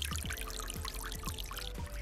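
Water from a solar-powered garden bird bath fountain trickles and splashes steadily, close and soft, with light pattering drops throughout.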